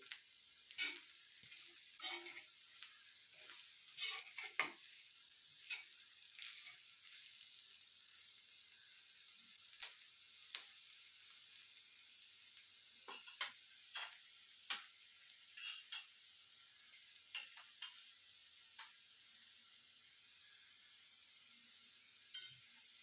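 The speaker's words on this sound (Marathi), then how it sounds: "हळद घातली की अजून याला असं हलवून घ्यायचं मिक्स करून घ्यायची हळद" Potatoes with turmeric and spices are stirred in a pan. A faint, low sizzle runs underneath while scattered scrapes and clinks from the stirring come irregularly, fairly close, with no voices.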